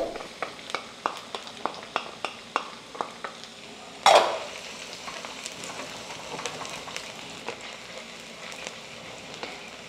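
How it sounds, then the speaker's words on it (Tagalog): Ginger, then garlic, sautéed in a wok for Filipino-style chicken curry: steady oil sizzle under a rhythmic series of spatula scrapes, one louder clattering hit partway through, then continued frying. "magigisa lang tayo. Unahin na natin yung luya. Pagkatapos ng luya, sunod na rin natin yung bawang."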